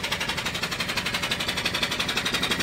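A small brass steam engine drives a dynamo, chuffing in a fast, even rhythm of regular beats that sound close and fairly loud with no talk over it.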